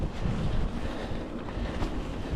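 Steady, loud wind buffeting a microphone outdoors on a country path, a low rumbling roar with gusty swells and no voices.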